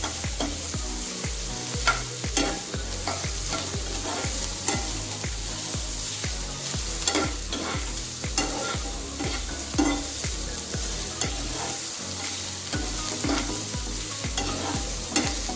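Chopped onion and cinnamon fry in a pan while being stirred, giving a steady sizzle broken by frequent scraping, clattering stirs, loud and close with no talking.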